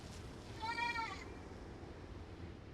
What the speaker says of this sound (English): I'll show you what the goat sounds like.